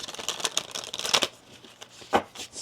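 A deck of tarot cards shuffled by hand at close range, a quick run of riffling, flicking card noises followed by a brief pause and one more burst of shuffling.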